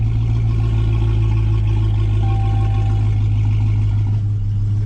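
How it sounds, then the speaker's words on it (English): A Dodge Hellcat XR widebody with exhaust valves open idles steadily, giving a deep, loud, continuous rumble close by with no speech over it. "And this is idle with the valves open."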